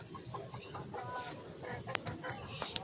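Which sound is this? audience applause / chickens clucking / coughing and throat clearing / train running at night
chickens clucking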